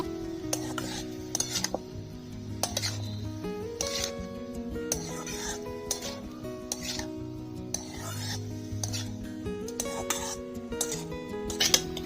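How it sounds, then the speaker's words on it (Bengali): Vegetables for a spinach curry with soybean chunks, radish, potato, eggplant, chopped tomato and coriander are stirred in a cooking pot. A spoon scrapes and rasps against the metal in repeated strokes over a faint simmer, with no talking. "সব সবজিগুলো ভালো করে নাড়াচাড়া করে নিয়েছি"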